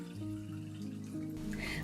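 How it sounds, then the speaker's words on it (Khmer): About a litre of water pours from a tap or jug into a cooking pot, a short, close, steady gurgling stream with ringing tones that brighten as the pot fills. "ពេលចាក់ទឹកចូលឆ្នាំងរួចហើយ"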